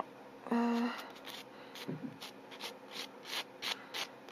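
A nail file rasps lightly across the surface of a fingernail in short, quick strokes, close but soft, after a brief tonal beep near the start.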